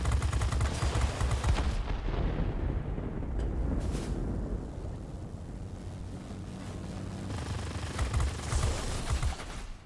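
Aircraft machine guns rattle in World of Warplanes, a dense, loud, continuous burst of gunfire over engine roar during a dogfight, with bursts swelling and easing throughout.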